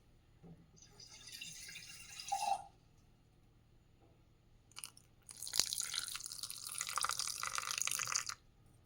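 Water poured into a mixer jar holding milk cream for homemade ghee, heard as two bursts of splashing and trickling liquid, a short one and a longer one, close and moderately loud with no talk.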